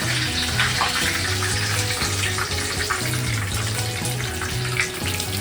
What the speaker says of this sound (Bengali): এই জল পড়ে চলে যাচ্ছে